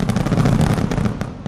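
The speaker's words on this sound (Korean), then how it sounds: "그리고 폭죽 소리." Fireworks crackle and pop in a dense, continuous burst, played back as a sound-socialization exercise for a puppy; the bangs are loud and close and run without a break, with no voices.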